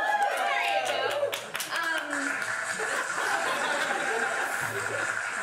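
A small crowd claps and laughs in a burst of scattered hand claps and chuckles early on, fading into talk and murmur.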